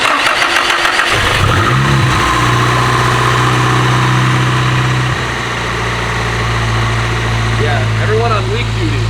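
Nissan Silvia S15 VVL engine catching and firing at its first start-up, a short rev, then settling into a loud, steady idle.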